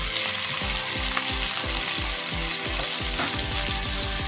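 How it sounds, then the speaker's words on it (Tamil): Tomatoes frying with softened onions in a pan for a village-style dried fish curry, a continuous sizzle under a steady run of low rhythmic thumps from stirring. "இப்போ இந்த தக்காளி சேர்த்து தக்காளியும் நல்லா வதங்கணும்."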